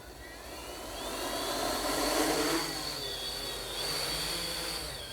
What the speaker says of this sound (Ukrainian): зараз ми будемо злітати і пробувати, як дрон відпрацьовує.